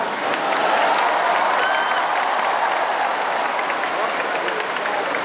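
An audience at a religious debate in Mindoro breaks into sustained applause, a dense steady wash of many hands clapping that fills the hall throughout, with some crowd noise mixed in.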